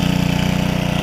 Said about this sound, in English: So I'm just going to let it run until it runs out of gas.